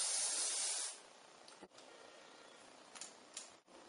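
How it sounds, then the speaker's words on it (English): Hairspray sprayed onto curled hair in one long, loud hissing burst that fades after about a second, followed by faint handling sounds. "What we're going to do is we're just going to spray this all."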